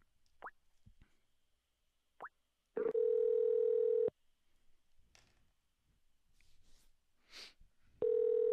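Steady telephone dial tone from a call being placed, sounding in two clear bursts of about a second each, with a few soft clicks and plops of dialing before and between them and no talk.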